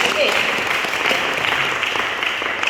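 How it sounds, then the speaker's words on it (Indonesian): A seminar audience applauding, steady continuous clapping throughout, fairly loud and close, with some voices mixed in. "So tepuk tangan buat kalian yang kumpul hari ini di sini."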